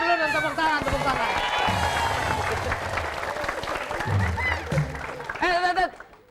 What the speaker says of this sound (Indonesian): Tepuk tangan dulu dan tepuk tangan, tepuk tangan